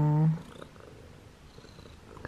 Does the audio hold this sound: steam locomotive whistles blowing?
no